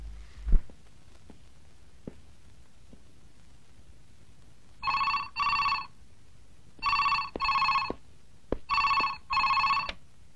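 A telephone rings in three pairs of bright electronic bursts that grow steadily louder and nearer, carrying an incoming call from Hong Kong, with faint clicks and a soft thump before the rings begin.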